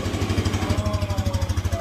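A Yamaha EZ115 motorcycle's small four-stroke engine idles steadily after starting, a soft, even low putter with a regular pulsing rhythm, close by and fairly loud.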